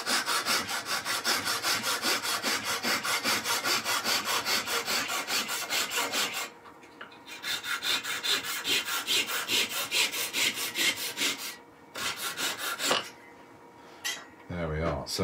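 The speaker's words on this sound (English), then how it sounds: "Wouldn't be without these little Japanese saws, these little pull saws, because they give such a fine cut." A small Japanese pull saw cuts through wood with a fast, even run of rasping strokes, loud and close. The sawing stops briefly twice before short bursts resume.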